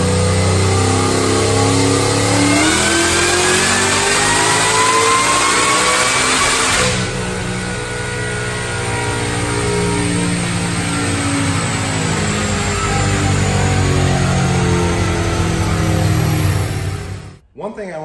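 Roush-supercharged, Coyote-swapped Fox Body Mustang running on E85 race fuel and revving hard on a dyno, a loud sustained engine roar climbing in pitch with supercharger whine, then dropping off abruptly at the end.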